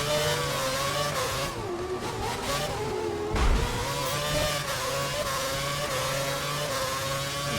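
Formula One car engines from the F1 2011 video game at Monaco, a continuous loud high-pitched whine with shifting pitch as cars rev and change gear through the streets, with a brief low thump midway.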